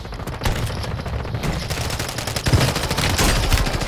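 Rapid, dense gunfire from a Call of Duty match, with bursts of automatic shots and single cracks layered across the whole stretch, loud and close with no pauses.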